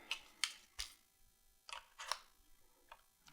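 The plastic Allen wrench holder of a Peak Design Travel Tripod snaps back into place: a handful of small, sharp clicks in quick, uneven succession, close and quiet against near silence.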